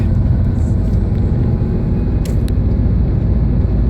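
A Honda Accord engine, fresh from a spark plug change, accelerates at high speed, a loud, steady rumble with road and wind roar that holds throughout.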